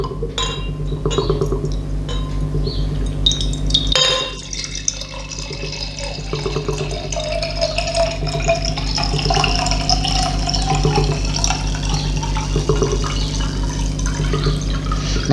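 Henney's Vintage Herefordshire cider, flat with no carbonation, poured from a bottle into a glass: glassy clinks at the start, then a continuous liquid pour that gurgles and rises in pitch as the glass fills.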